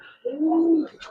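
A Giribaz pigeon gives a single soft, close coo lasting under a second, a low drawn-out throaty note rising and fading, with slight handling rustle after.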